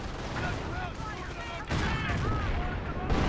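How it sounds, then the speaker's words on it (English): Off-map artillery barrage in Company of Heroes, dull heavy thumps rolling under continuous battle noise, with a louder surge midway and a steady rumbling backdrop. "You can hear the thumps in the background."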